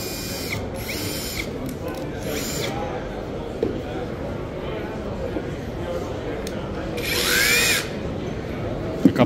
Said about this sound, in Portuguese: Olha a esmerilhadeira deles aqui